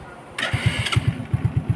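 A Monarch RM CB110 underbone motorcycle starts: a brief starter whir, then the small engine catches and settles into a steady, close, even putter of regular pulses.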